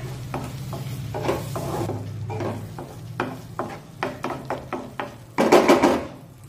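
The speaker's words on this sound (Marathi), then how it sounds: "मिक्स करून घेऊया।" A spoon stirs pea curry masala with ground paste and a splash of water in a kadhai on the stove, making a steady run of close, rhythmic scraping strokes over a soft sizzle.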